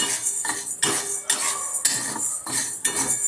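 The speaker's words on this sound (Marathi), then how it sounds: "सतत हलवत हलवत आपण साबुदाणा छान भाजून घेऊयात।" Sago pearls dry-roast in a pan and are stirred constantly, heard as close metal scraping and clinking strokes repeating every half second or so, loud, with no voice.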